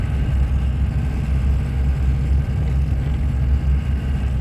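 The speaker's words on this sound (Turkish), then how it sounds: "Araba bağırmaya başladı." A loud, steady low engine drone, heavy and laboring, holds without pause throughout as a car climbs a steep mountain road in second or third gear.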